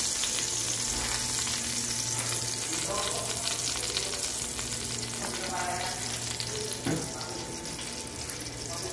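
Hot cooking oil sizzles steadily in a pan over low heat while ampalaya with egg is being prepared, a close, continuous frying hiss with occasional stirring scrapes.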